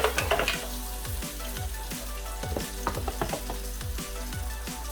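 Paella ingredients, onions among them, fry in a pan with a steady close sizzle, while a utensil scrapes and taps against the pan in repeated stirring strokes.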